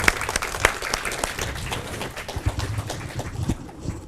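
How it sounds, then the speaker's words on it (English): An audience at an academic conference on nature-based solutions claps for a speaker, a dense close burst of applause that thins out toward the end. "Let's clap again, yeah."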